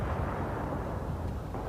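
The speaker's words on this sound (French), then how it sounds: "C'est le truc un peu relou de Battlefield 3, c'est les mortiers" Mortar fire in the video game Battlefield 3 produces a brief, low, rumbling boom that fills the short moment at moderate volume, with no voices.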